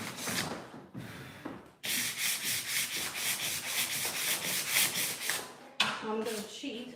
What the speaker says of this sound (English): So that is properly sanded like that.